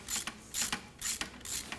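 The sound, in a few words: ratchet wrench loosening fuel injector on Mercedes 280SL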